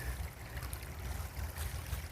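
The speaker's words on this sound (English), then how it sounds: "we have this little creek with little itty-bitty waterfalls to give you that babbling sound" A small creek with tiny waterfalls babbles through a campsite at Sertoma Youth Ranch, a steady, close rush of flowing water with a low, churning undertone.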